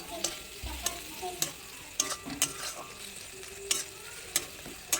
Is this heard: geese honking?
no